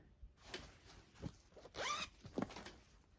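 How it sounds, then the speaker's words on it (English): A double-sided zipper on a fabric project bag is pulled in several quick, short zips, each a crisp rasping burst, heard close and quiet with no talking. "these, of course, have the double-sided zippers, so you could zip either way"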